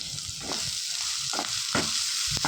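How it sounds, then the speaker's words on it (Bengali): Grated onion, garlic and ginger fry in a pan for a mackerel fish curry, a constant close hiss of oil with several short scraping stirs of the spoon spaced through it. "এই পর্যায়ে দিয়ে দিন গ্রেট করে রাখা পেঁয়াজ রসুন আদা এবারে নাড়াচাড়া করে কিছুক্ষণ রান্না করে নিন"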